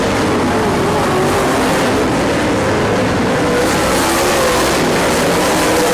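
Race cars, including a D1 car, screaming around a track toward turn one, a loud continuous engine roar with wavering pitch as cars run nose to tail.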